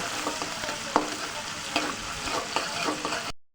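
Chopped onion frying with whole cumin seeds in a pan for a cabbage and prawn curry: a loud, close, continuous sizzle with a few sharper stirring scrapes, then an abrupt stop.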